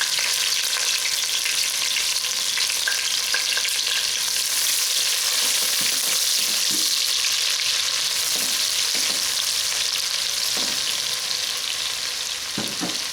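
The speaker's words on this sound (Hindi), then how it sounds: "थोड़ी सी कड़कड़ शोर मचाएगा बेचारा, क्योंकि ये चलते हुए तेल में डल गया है" Onions sizzle and crackle in hot oil, a dense steady hiss with scattered pops and a few stirring clinks, close and continuous throughout.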